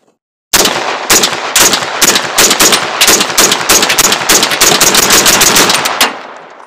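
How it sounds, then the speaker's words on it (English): An AR-15 rifle with no gas rings fires a long rapid string of loud, close shots in an uneven rhythm for about five seconds, ending in a brief ringing decay. "And I'm gonna run this gun without gas rings."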